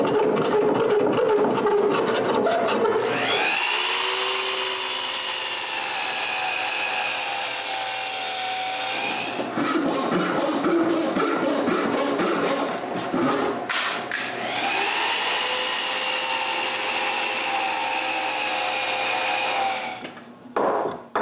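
A power saw cuts straight across the faces of a glued-up wood block, two long loud passes of steady whining blade through timber separated by a brief pause, with short bursts and a trailing off at the end.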